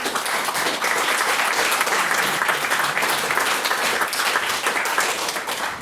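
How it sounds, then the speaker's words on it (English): An audience at a formal debate gives a maiden speaker a steady round of applause. The clapping is dense and loud, holds evenly throughout and tapers slightly at the close. "I'll ask you to give another round of applause."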